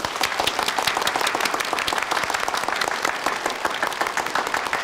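An audience at a formal ceremony where an appointment order is read out claps steadily and densely for several seconds, a continuous sustained applause with no talk.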